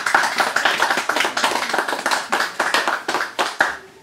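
Audience applause after a live music performance of two sets, a dense burst of many hands clapping close and loud, steady for four seconds, with no talking.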